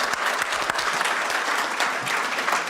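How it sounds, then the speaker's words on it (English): An audience at an announcement of a new investment and partnership at Hamilton's airport claps steadily in a dense, even round of applause, with no gaps. "how about just a round of applause"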